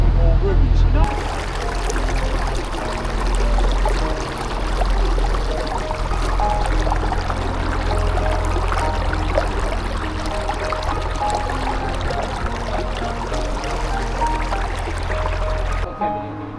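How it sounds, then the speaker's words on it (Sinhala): A boat cruises along a river, with steady low engine rumble and rushing water churning around the hull, continuous and close from start to finish. "අපි දැන් ආය හැරිලා බෝට් එක එන ගමන් ඉන්නේ."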